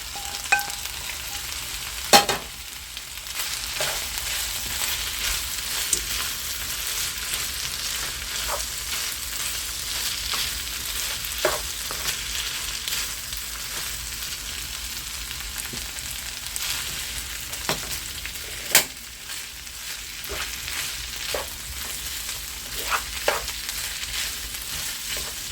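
Shrimp tossed back into a pan of tri-color peppers, frying with a steady broad sizzle and occasional sharp clatters of stirring, close and continuous, with no talk.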